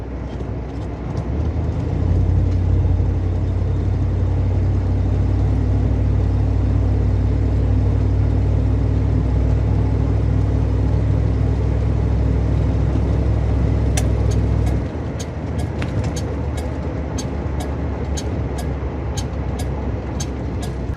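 A 1976 Cadillac Fleetwood drives along, a steady low engine drone and road rumble heard from inside the car, easing off near the end, where light clicks follow.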